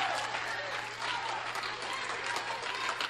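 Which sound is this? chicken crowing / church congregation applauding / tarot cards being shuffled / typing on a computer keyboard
church congregation applauding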